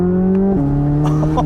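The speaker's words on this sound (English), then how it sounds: "You can hear the burbles and crackles from the exhaust a little bit." A 2023 Chevrolet Corvette Z06 with active exhaust holds a loud, steady engine note that drops in pitch midway as it shifts, with a few light pops and crackles near the end.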